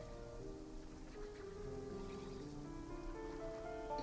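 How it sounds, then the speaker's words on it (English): Steady rainfall in the Genshin Impact game world, a soft continuous hiss of drops with a low background bed and faint musical tones, even and unbroken throughout. "Everything is weather affected. It's raining right now."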